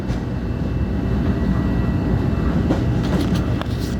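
A New York subway train pulls out of the 153rd Street station near Yankee Stadium, a loud, continuous rumble with faint rail clatter and squeal building toward the end.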